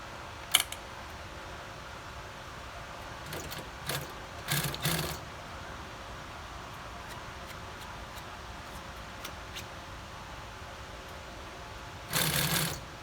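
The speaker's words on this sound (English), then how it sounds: "That's the sewing machine that he's using, is a commercial high lead." A steady mechanical hum with a few short bursts of rapid clattering stitching from a nearby commercial high-lift sewing machine, separated by quieter stretches.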